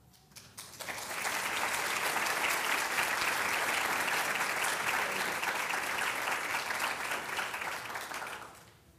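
Audience applause at a nursing college white coat ceremony, a steady, full round of clapping that swells quickly, holds for several seconds, then tapers off, with no talking over it.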